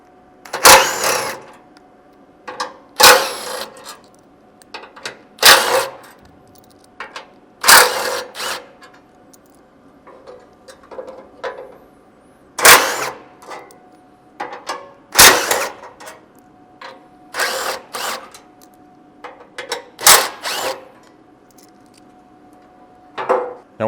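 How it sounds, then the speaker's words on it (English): Socket tool removing bumper mount screws on a Ford Bronco, heard as short bursts of ratcheting and whirring repeated roughly every couple of seconds, close by, with quiet pauses between. "you're going to need a 13mm socket. You'll be removing these 4 screws on each side"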